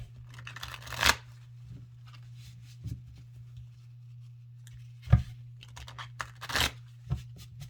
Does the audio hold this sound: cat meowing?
no